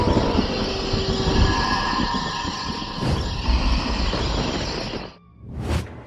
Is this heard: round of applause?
no